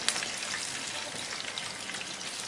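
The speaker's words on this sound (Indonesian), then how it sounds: "Kita akan goreng lagi sampai nanti semuanya habis." Fritters fry in plenty of hot oil, a dense, steady crackling sizzle like rain on a surface, close and continuous with no talking.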